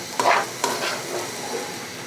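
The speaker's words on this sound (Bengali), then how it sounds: "চাউলটাকে ভাজা হয়ে গিয়েছে" Rice is stirred while frying in homemade ghee for khichuri, with a couple of scraping strokes of the spoon over a soft, steady sizzle, close and alone.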